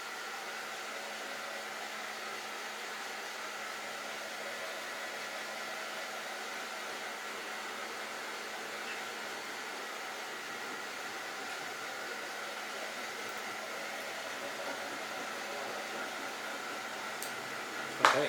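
Steady, constant blowing hiss of a heat gun shrinking heat shrink tubing over wires during an RC buggy kit build, running unbroken at moderate level with a brief click near the end.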